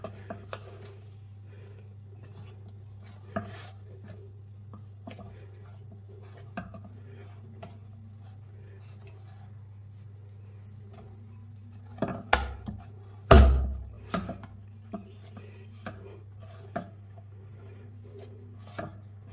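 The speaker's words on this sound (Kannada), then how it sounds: "ಒಣ ಹಿಟ್ಟು ಹಾಕ್ಬಿಟ್ಟು ಚೆನ್ನಾಗಿ ನಾದ್ಕೊಳ್ಳಿ ಫ್ರೆಂಡ್ಸ್" Bakery-style bun dough kneaded by hand with dry flour on a surface: soft, irregular pressing thumps and rubbing, quiet overall, with a cluster of louder slaps and knocks partway through.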